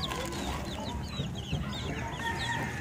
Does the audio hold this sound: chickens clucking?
yes